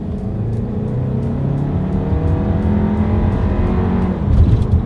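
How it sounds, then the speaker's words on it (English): A 2020 Volkswagen Tiguan with a turbocharged four-cylinder pulls hard from a rolling start, its engine drone climbing steadily inside the cabin and swelling louder near the end, without speech. "let's see how quickly we can get this new 2020 Volkswagen Tiguan here up to speed"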